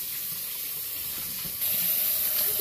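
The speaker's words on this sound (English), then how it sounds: "I'm going to turn some cold water on and wash my" Cold water runs steadily from a kitchen sink tap while cabbage is washed, a constant broadband hiss that gets slightly louder and brighter partway through as the flow increases.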